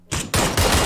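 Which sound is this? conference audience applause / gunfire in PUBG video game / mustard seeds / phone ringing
gunfire in PUBG video game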